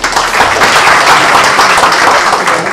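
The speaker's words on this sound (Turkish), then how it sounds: "İbrahim Murat'a da bir alkış gelsin" Loud, dense audience applause for İbrahim Murat at an association breakfast, a steady wash of many hands clapping close by, filling the whole stretch without a break.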